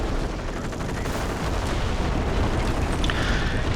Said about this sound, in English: so this is a very low scatter barrage